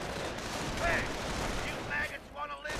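Grenade blasts and gunfire in a World War II strategy video game battle, scattered bursts and explosions layered under steady commentary from a voice talking throughout.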